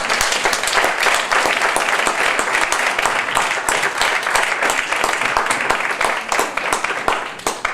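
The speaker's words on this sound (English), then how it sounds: "please one more time give them all a round of applause" Loud, sustained applause rises from the crowd at a global esports executive summit as panelists leave the stage, with individual claps standing out in the steady wash throughout.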